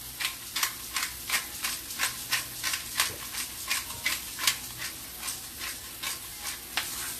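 Vegetables with black pepper sizzle steadily in a hot pan while being stirred, with rhythmic scraping strokes roughly every half second over a continuous close frying hiss.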